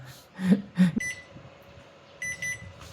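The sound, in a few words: beep from SiniLink XY-SK120 buck-boost DC converter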